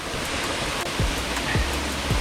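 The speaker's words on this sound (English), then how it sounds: "Here's the waterfall." Sigua Falls on Guam pours down as a steady broadband rushing roar of falling water, constant and fairly close, with a few brief low swooping thuds in the background.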